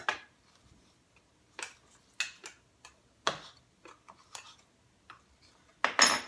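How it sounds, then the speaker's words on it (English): Knife cutting grape tomatoes into small pieces on a board for guacamole, a string of quiet, sharp taps spaced irregularly, with a louder chop at the end. "I'm going to take these 4 grape tomatoes and cut them into small pieces"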